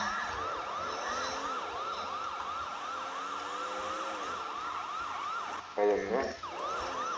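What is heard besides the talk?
police car siren in video game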